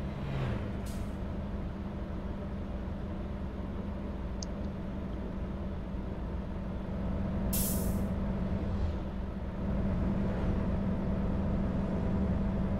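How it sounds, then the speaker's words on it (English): Air brakes on a Mack truck in American Truck Simulator release in two sharp, loud hisses over a steady idling engine drone, with a faint click in between. "Definitely like that new air brake sound though."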